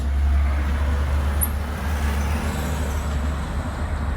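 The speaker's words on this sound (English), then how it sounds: "So from the morning to the late night, there's traffic all the time." Steady road traffic at the main crossing and traffic light of Ancud on Chiloé Island, Chile, a continuous loud rumble of passing cars, buses and trucks with a brief air-brake hiss, heard close and without talk.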